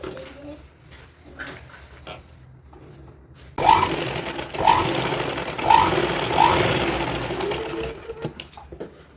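A sewing machine stitching fabric for a baby girl's dhoti starts abruptly partway through and runs in a steady close whir, after quieter moments with a voice speaking.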